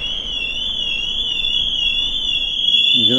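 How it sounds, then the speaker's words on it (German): Car alarms sound on the car deck of a ferry in Norway. A steady high electronic tone rises and falls without a break, and another warbling alarm starts up near the end over a low background hum. "Das sind wieder die Leute, die vergessen haben, ihre Alarmanlage auszumachen."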